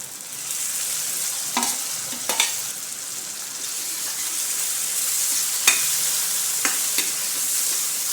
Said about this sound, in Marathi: टोमॅटो चांगला परतून घ्यायचा थोडंच होऊ द्यायचं कांद्यामध्ये